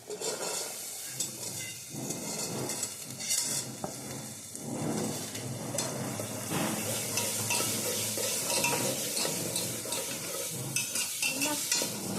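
Val beans and potatoes stirred in hot spiced oil with salt, a continuous close sizzle with repeated scraping and clinking of a spoon against the pot throughout.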